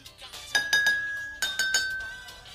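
Light spoon taps on water-filled drinking glasses produce bright ringing tones, a quick cluster of strikes, a pause, then another cluster with a slightly different pitch.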